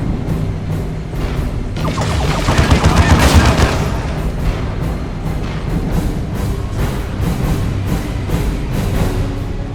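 Rapid bursts of gunfire and battle noise from Dawn of War 2, a real-time strategy game set in the Warhammer 40,000 universe, with a dense fusillade peaking early and then continuing as steady, loud automatic fire throughout.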